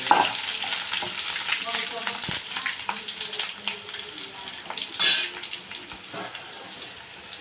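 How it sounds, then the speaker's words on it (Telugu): Potato and brinjal masala frying in a pan with curry leaves, a steady sizzle broken by repeated scraping stirs and one brief louder hiss near the end, close and with no talk. "ఒకసారి కలుపుకోవాలి కలుపుకున్నాక వేగనిద్దాం"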